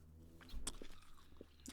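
Someone bites into a Philly-style dark chocolate peanut chew candy, giving a soft close-up crunch followed by a few quiet chewing sounds over a low background hum.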